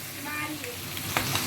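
Calamari frying in hot oil, spattering as it cooks, gives a steady close sizzle with a few sharp pops and crackles near the end.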